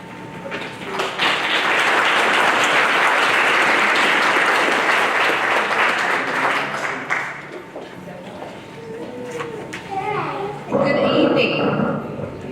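An audience at a Phi Theta Kappa induction ceremony breaks into loud sustained applause for someone, a dense clapping wash that fades after several seconds as a speaker begins talking into a microphone.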